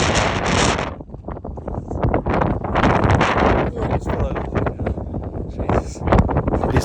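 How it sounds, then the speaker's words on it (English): Strong 40-mile-an-hour wind in thick fog on the summit of Snowdon buffets the microphone in loud, continuous roaring gusts, dipping briefly before surging again. "we were greeted with thick fog and 40-mile-an-hour winds"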